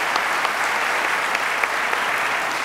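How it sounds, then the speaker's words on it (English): An audience at a talk applauds, a steady, even wash of many hands clapping from a fair distance, with no voices over it. "We should clap for that, too."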